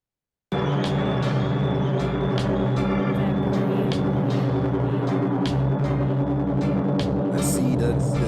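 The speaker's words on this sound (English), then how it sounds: "the drone starts off quite quietly and then it gets completely wild in the middle of the track" Drone music built from air quality data with traffic and wood burner pollution in mind, a dense, loud sustained layered tone that starts abruptly, overlaid with a series of sharp rhythmic clicks and bursts.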